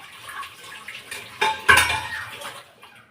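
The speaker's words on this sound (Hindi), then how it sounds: "बर्तन साफ हो जाएंगे, इनको कर देते हैं साफ।" Dishes, pots and utensils are washed by hand at a home kitchen sink, with close, sharp clinks and clatters of metal and crockery knocking together in uneven bursts over faint running water, and no talk.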